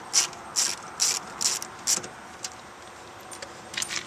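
A ratchet with a 7mm socket backs out the single top bolt of a door speaker on a Chevrolet HHR, five quick clicking bursts in a steady rhythm followed by a few fainter clicks, close and clear with no voices.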